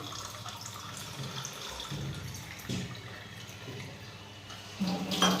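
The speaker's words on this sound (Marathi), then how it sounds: "आपण पाणी टाकू त्याच्यावरती" Water pours steadily and close by for several seconds with a continuous splashing wash, growing louder and fuller near the end, with no talking over it.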